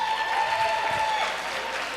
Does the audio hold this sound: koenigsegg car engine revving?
no